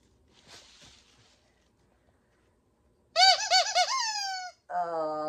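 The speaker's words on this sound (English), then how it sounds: "Oh, I got a rubber squeaky Santa." A rubber squeaky Santa dog toy is squeezed after some soft rustling, giving a quick run of loud, close squeaks followed by one long, drawn-out squeak.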